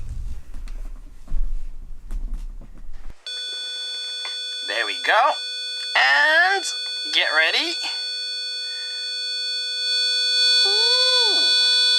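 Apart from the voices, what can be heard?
500 hertz square-wave tone from Arduino pin through amplifier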